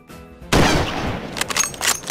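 A single sharp gunshot rings out in a Minecraft zombie survival server, followed by a burst of crackling noise and a few fainter clicks and pops.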